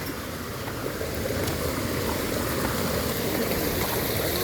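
A waterfall, the second of thirteen falls, gives a loud, dense, unbroken rushing roar of falling water that fills the scene at close range, with no talk over it.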